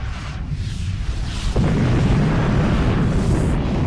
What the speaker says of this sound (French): On a la confirmation qu'un objet cosmique gigantesque est tombé du ciel et a explosé sur la péninsule du Yucatan